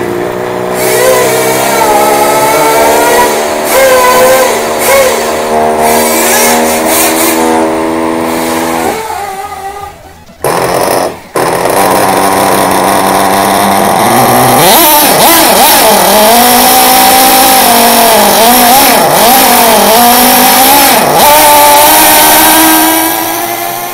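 A petrol car engine is started and revved loudly near the mic. It settles into a steady idle, then cuts out briefly and restarts, followed by rising and falling revs that swell and dip repeatedly.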